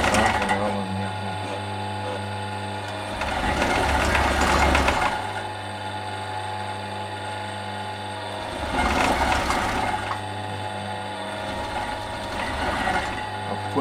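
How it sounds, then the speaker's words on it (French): An industrial overlock serger stitches the edge of a cushion cover, its rapid mechanical clatter swelling in two bursts over a steady motor hum that keeps running between them. "Donc le surjet, alors moi j'ai une surjeteuse industrielle, hein."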